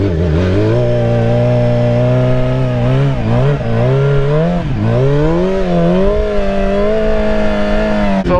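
Motorcycle doing slow parking-lot wheelies, its engine loud and close with steady harmonic droning that dips and swells as the throttle is blipped and eased, no talk over it.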